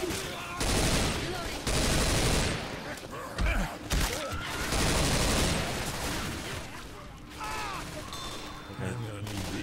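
Rapid bursts of video-game gunfire crackle in repeated loud volleys, with heavy thumps and crashes between them and a few quieter stretches toward the end.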